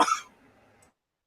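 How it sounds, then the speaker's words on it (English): A single short, sharp cough close by, fading quickly into silence. "hey, we all got a cough sometime."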